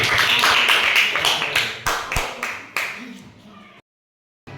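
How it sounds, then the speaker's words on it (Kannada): Schoolchildren in a maths classroom clap for a classmate: a quick run of sharp, close claps that bunch together, then thin out into a few separate hits before silence. "ಅವನಿಗೆ ಜೋರಾದ ಚಪ್ಪಾಳೆ ಬರಲಿ"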